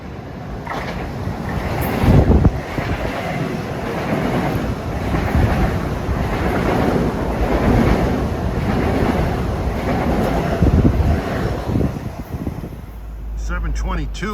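An LIRR commuter train running from Grand Central to Ronkonkoma passes through Forest Hills during the morning rush, a steady loud rumble and roar sustained for most of the stretch, fading off near the end.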